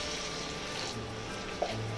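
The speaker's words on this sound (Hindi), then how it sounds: "अब हम इसमें डालेंगे पानी" Water is poured onto dried shrimp to wash them, a steady splashing pour with a brief clink partway through.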